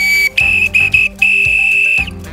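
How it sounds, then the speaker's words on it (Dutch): A shrill whistle blown as a signal sounds in several sharp, loud blasts, short ones first and then a longer sustained tone, close and clear, with no talking. "Oh, ik hoor het fluitje."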